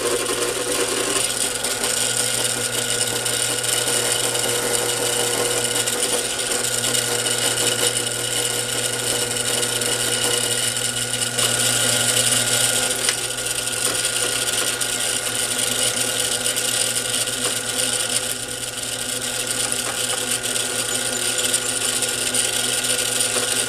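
A Bridgeport milling machine bores a counterbore in metal, a dense continuous whine and grinding hiss running throughout with a low hum underneath and slight shifts in tone as the cut proceeds.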